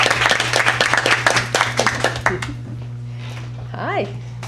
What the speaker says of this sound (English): give him a nice round of applause, Adam Matty